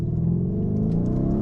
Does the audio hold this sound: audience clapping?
no